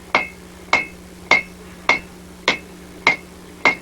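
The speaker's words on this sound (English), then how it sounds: "you notice I turned my hammer over and that goes a lot faster" A blacksmith's hammer strikes hot metal on an anvil while drawing it out, seven loud ringing blows at an even, steady rhythm, close and without talk.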